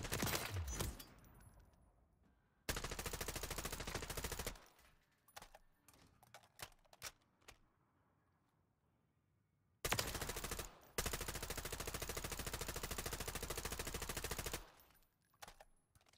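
Sustained bursts of automatic gunfire from a video game weapon with a recoil-control setup, two long rapid-fire strings separated by quieter gaps with a few scattered single shots, loud and close.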